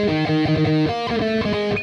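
Distorted electric guitar chugs through a main riff, fast driving palm-muted rhythm with sustained overdriven chords, loud and close, played alone.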